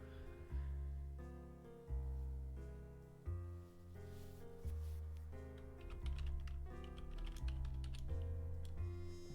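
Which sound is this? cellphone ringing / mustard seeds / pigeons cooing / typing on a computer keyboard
typing on a computer keyboard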